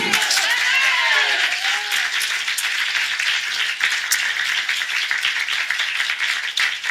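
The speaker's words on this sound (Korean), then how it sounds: "그렇게 믿는 사람 우리 하나님께 박수." A church congregation claps during a Sunday morning worship service, a steady, dense wash of applause that fills the whole stretch at constant loudness, with a few voices calling out early on.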